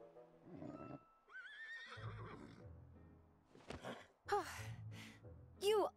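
A horse in the video game Kingdom Hearts III neighs and whinnies angrily, several loud, close cries mixed with snorts and huffs, with characters talking in between.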